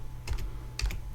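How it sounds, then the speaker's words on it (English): Two quick pairs of keystrokes tap on a computer keyboard, close and fairly soft, with a short pause between them against a quiet background hum. "typed in that computer name in this computer on Mac"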